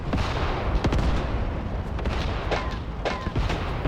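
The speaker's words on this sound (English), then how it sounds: "It's being hosed down with machine gun fire." Machine gun fire hosing down a small command tank with a large antenna in a Graviteam Tactics battle, heard as dense, loud bursts of rattling shots mixed with heavier booms, continuous throughout.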